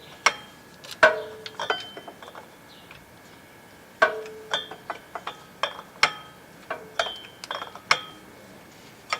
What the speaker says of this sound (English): we'll go ahead and just loosen up this nut